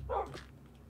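A pet dog in Minecraft lets out a single short, faint bark.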